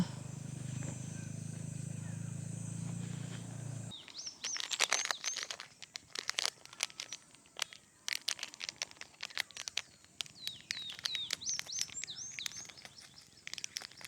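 Birds chirp and tweet at a mountain campsite in Tanay, Rizal, with brief, scattered calls in quick repeated bursts, following a few seconds of steady rushing noise and some crinkling handling sounds.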